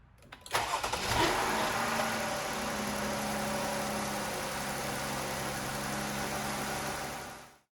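A 2018 Chrysler Pacifica engine cranks briefly and catches, then settles into a steady, fairly loud idle that hums on for several seconds before cutting off abruptly, with no voices.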